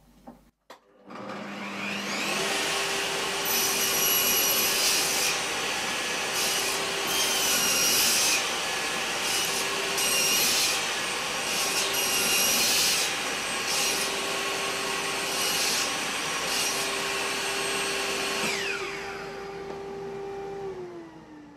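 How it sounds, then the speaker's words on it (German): A hand saw cuts through a wooden workpiece in a home workshop while building a shoe rack from salvaged furniture. The rasping strokes are loud, close and continuous, then stop abruptly at the end. "Jetzt sägen wir das einfach mal durch."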